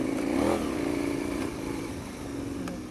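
KTM 1090 Adventure R motorcycle riding in second gear over a rock shelf, a steady close engine drone with a brief swell in revs near the start, then settling into an even throb with faint clatter.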